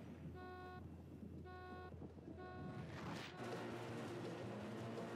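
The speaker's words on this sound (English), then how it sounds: "I wonder why I was getting honked at right there." A car horn honks in the Motorstorm racing video game, sounding as three evenly spaced, steady toots over a constant engine rumble, followed by louder rushing vehicle noise.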